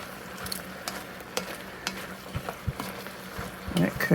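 Cajun sausage, cabbage and vegetables stir-fry in a pan, a quiet steady sizzle broken by scattered spoon clinks and scrapes, growing busier toward the end, with no talking.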